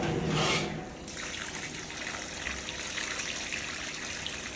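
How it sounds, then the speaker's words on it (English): Cold water runs and trickles through a clogged water heater being flushed, a steady close gushing rush that is louder at the start and then settles. "I've been running cold water through it just to break it up a little bit more"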